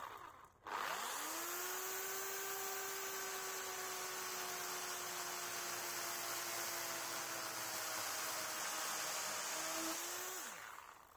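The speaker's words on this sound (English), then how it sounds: "I did borrow this electrical chainsaw though, and I decided to cut all of these planks into smaller pieces so I could use them as firewood." An electric chainsaw revs up and runs steadily through wooden planks for firewood, giving a loud, sustained whine that holds for about ten seconds before winding down.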